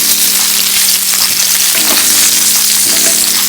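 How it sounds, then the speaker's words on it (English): Salmon pan-searing in a pot for coconut curry sizzles loudly and continuously, with a few faint scrapes of a utensil partway through. "You also may not want to move the salmon around too much while it's pan searing"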